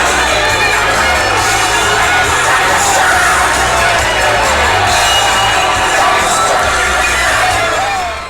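A large crowd cheers and shouts continuously at a night-time rugby league match, loud, dense and sustained, with whoops and yells rising throughout.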